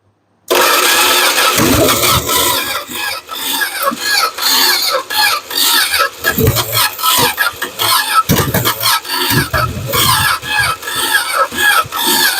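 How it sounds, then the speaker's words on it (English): A Dodge Aspen engine cranks and struggles to start, a loud, continuous churning whir with uneven surges and sputters that never settle into a steady idle, heard up close for over ten seconds. "Oh, it almost cranked that time, believe it or not."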